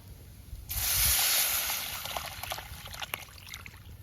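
Tomato tamarind water for rasam pours steadily into a pot with a bright hissing splash that starts abruptly, then tapers into light trickling and a few drips, close up.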